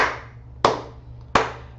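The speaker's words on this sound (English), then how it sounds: "That deserves a clap" Clapping: at least two sharp, close hand claps spaced about half a second apart, each with a short ringing decay in a quiet room.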